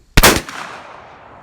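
One loud, sharp report from a Model 1873/1884 Trapdoor Springfield rifle fired outdoors, with a sudden blast followed by a long, fading rumble of echo.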